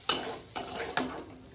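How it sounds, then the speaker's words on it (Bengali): Prawns fry in a pan at home with a soft, steady sizzle, broken by three sharp stirring scrapes of a utensil against the pan, close and fairly quiet, with no talking. "চিংড়ি ভাজা আর পিঠা একটু করছি।"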